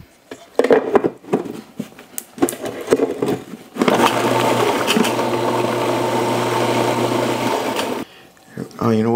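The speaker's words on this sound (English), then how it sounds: "I'm going to just do it in this food processor" A food processor chops jerk pork marinade ingredients, running in one loud continuous whir for about four seconds, with clattering handling noises before and after.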